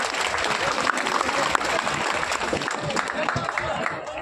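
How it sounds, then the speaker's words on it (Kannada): Clapping from a village audience greeting a Bharatanatyam dance performance, steady and sustained throughout, with crowd voices mixed in. "ಜೋರಾದ ಚಪ್ಪಾಳೆ, ಎಲ್ಲರೂ ಕೈ ಇದ್ದವರು"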